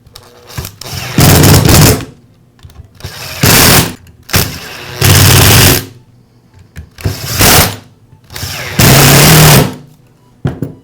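DeWALT angle grinder with a newly replaced armature, switched on in repeated loud bursts of whining motor, each spinning up and cutting off, with quiet gaps between runs.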